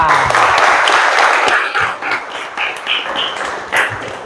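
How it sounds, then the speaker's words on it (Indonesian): Students in a classroom applaud a classmate, a burst of dense clapping that thins into scattered claps within a few seconds, close and fairly loud. "Ya, tepuk tangan untuk teman kita."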